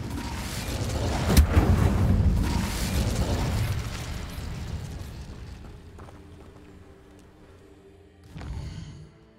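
An Incendio fire spell cast in the Hogwarts Legacy video game sets off a loud burst of whooshing, crackling flame that slowly fades, followed by a smaller second burst near the end.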